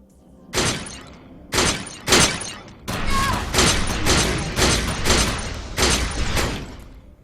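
A gun in the Defiance game fires repeated loud blasts at a projection, first as three separated shots and then as a faster string of heavy reports, each sharp and booming, with no talk over them.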